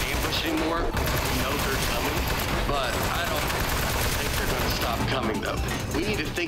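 Video game gunfire rattles in dense continuous bursts, loud and close, with layered shots and impacts blending into a heavy barrage throughout.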